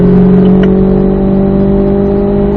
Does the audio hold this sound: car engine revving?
yes